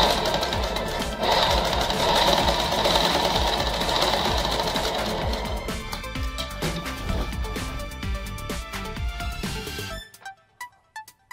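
A sewing machine stitches along the folded side of a petticoat, running loud and continuous at close range, then slowing into separate clattering stitches before stopping, with a few last isolated clicks.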